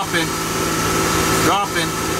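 Car engine started back up and idling during a radiator fan switch and bleeder kit installation, a steady mechanical hum with a fan whirring, under continuous low talk.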